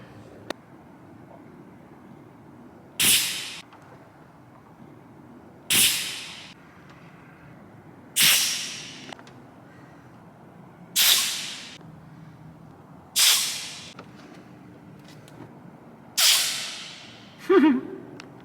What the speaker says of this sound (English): I did a compression test with the old snap-on automotive compressor gauge set.